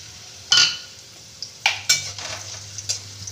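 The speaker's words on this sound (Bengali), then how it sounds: "প্রথমে আমি এই কিশমিশটাকে ভেজে নেব" Raisins fry in hot oil in a wok with a soft sizzle, while a utensil stirs them and scrapes against the pan in several sharp, uneven clinks.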